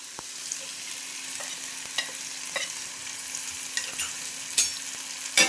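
Ivy gourd curry being stirred in a hot pan after turmeric goes in, with a steady soft sizzle and a series of scraping spoon strokes growing slightly louder toward the end, no voices.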